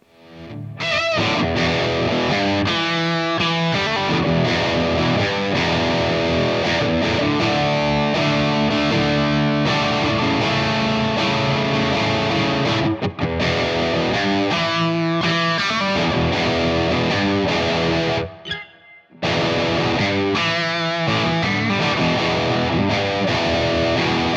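Epiphone Bonehead Riviera electric guitar played through heavy distortion, continuous chords and riffs at a steady loud level with a brief pause near the end.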